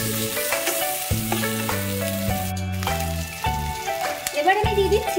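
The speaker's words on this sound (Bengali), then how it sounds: "এতে আমি পেঁয়াজ কুচো লাল লাল করে ভেজে নিয়েছি" Chopped onions fry in oil tempered with nigella seeds for a fish curry, giving a steady close sizzle that runs under continuous background music with no talking.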